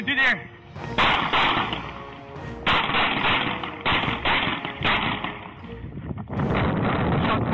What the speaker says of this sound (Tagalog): Ito ang lapel video kung saan makikitang binaril ni Pitzer ng walong beses si Joaquin Ortega.